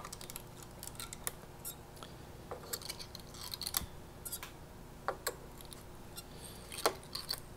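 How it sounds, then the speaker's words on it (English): Guitar strings being taken off the tuning keys at the headstock, heard as faint, scattered metallic clicks and light ticks over quiet room noise. "we've got to remove the strings off the tuning keys up by the headstock"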